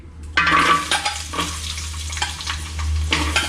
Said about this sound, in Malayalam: ഓക്കെ, വഴറ്റി കൊടുക്കാം.